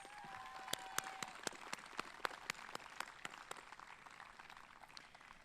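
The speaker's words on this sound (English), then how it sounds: "If we can give him a round of applause." Audience at a college commencement ceremony applauding an award recipient, a fairly quiet, distant patter of clapping with a handful of sharper individual claps standing out at an irregular rhythm.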